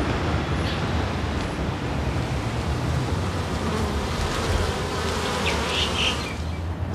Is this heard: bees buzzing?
yes